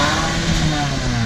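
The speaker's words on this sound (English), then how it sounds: "Get us a little rev, you know? We want to hit that supercharger." A supercharged 5.0 Ford Mustang engine revs briefly, a loud, close, steady rumbling roar.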